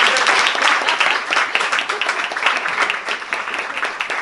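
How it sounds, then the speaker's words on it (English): A room full of people gives a sustained round of loud, dense applause that fades slightly toward the end, heard close and without talk over it. "So one more round of applause"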